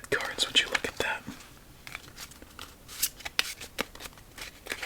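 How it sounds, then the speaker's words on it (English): A deck of playing cards is riffle-shuffled in repeated crisp bursts of fluttering snaps, very close, with a soft whispering voice between the shuffles. "Let's give this deck 2 more shuffles."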